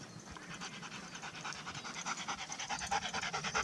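Rapid rhythmic dog panting close by inside a bandits' cave shelter, quick breathy huffs that grow stronger and more regular toward the end.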